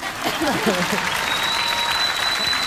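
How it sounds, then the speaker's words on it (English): Studio audience applause on a 1990s TV talk show, a steady dense wash of clapping throughout, with a voice talking briefly over it near the start. "since y'all want to clap"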